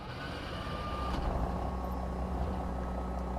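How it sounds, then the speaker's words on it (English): Truck engine in American Truck Simulator rumbling low and steady after starting up, with a brief high tone at first and faint clicks over the continuous idle. "It sounds so cool when you start this truck up."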